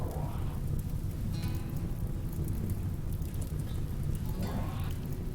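Steady rainfall in the colony-building game RimWorld, a constant hiss of falling rain under low rumbling, even and unbroken throughout, with no talking over it.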